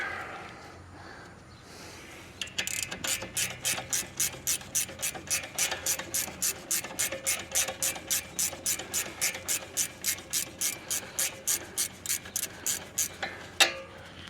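A hand ratchet clicks rapidly and evenly in a long run of about thirty close, crisp strokes while tightening during a car brake pad and rotor change, starting after a short quiet lead-in and ending with a louder knock.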